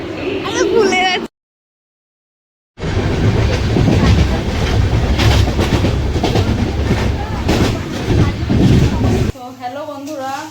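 A train at Howrah station: a dense, steady rumble of rail cars with clattering, clanking transients and station bustle. It cuts out briefly near the start, with voices heard around it.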